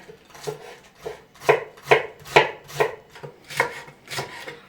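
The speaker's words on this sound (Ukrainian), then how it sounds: "Тут я нашаткую 3 кг капусти і 100 г моркви." A knife shredding cabbage for sauerkraut on a board, about ten rhythmic crunchy slicing strokes in a steady tempo, close and clear, with no talk.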